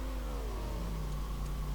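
A car engine revs and drives steadily in a video game shooter match, a continuous mid-pitched motor drone with a rising, shifting tone, heard close and alone without talk.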